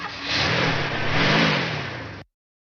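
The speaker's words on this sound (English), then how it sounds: "is that the tractor that's parked at Deborah's house?" A tractor engine revs hard in one sustained roaring burst rising and falling over about two seconds, then cuts off abruptly into silence.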